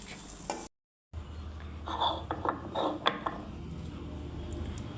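Fried pointed gourd mashed on a shil pata grinding stone, heard as several rough scraping and grinding strokes in an uneven rhythm, close and moderately loud over a faint steady background.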